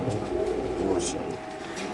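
Racer pigeons in cages at a pigeon market coo softly in low, throaty murmurs. Steady background bustle runs underneath, and voices can be heard nearby.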